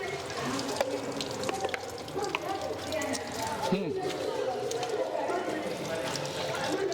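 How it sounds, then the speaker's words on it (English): Water runs steadily from a tap at a handwashing station in a restaurant, a continuous splashing flow beneath background voices and chatter. "You walk down here rather than people bringing water to you for you to wash your hand"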